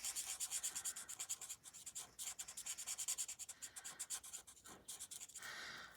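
Pen nib rubbing and blending colour on a drawn leaf, a steady rhythmic scratchy scrubbing on paper in close, quiet back-and-forth strokes.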